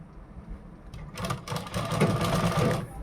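A sewing machine stitches a blouse with a fast, rattling mechanical whir that starts low and quiet, then comes in short bursts of rapid clatter, heard close with no voices.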